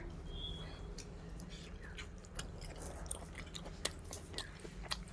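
Soft, close chewing and biting of boiled papaya, faint wet crunches and mouth clicks at an uneven pace over a quiet room, with no speech.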